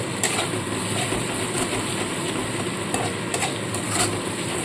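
Spice paste sizzling steadily in hot oil for a cabbage kofta curry, a soft continuous crackle with faint scattered pops and occasional stirring, fairly quiet and without speech.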